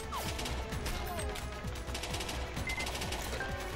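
Rapid Uzi fire in the PC game Major Mayhem, a dense, continuous burst of automatic shots with no pauses, loud and close throughout.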